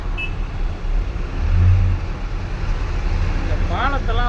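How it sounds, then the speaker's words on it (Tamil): Busy main road with steady, dense traffic rumbling close by, a heavy vehicle swelling louder midway, and a horn or squeal near the end; continuous and loud throughout. "எவ்வளோ டிராஃபிக் ஆகுது இந்த ஏரியாவில்"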